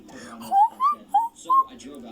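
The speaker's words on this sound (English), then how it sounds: "Bro, is bro whistling?" A person whistles four short, rising notes in quick succession, each bright and clear, over a low murmur of voices.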